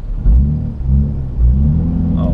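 A car fitted with a new sporty exhaust gives a deep, close rumble that swells twice in short revs, loud and low against quiet surroundings.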